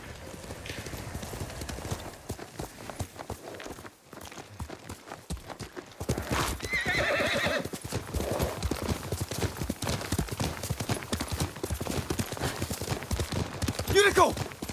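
Yuriko's horse in the video game Ghost of Tsushima: steady hoofbeats run throughout and grow louder and denser partway through, ending in a brief rising whinny.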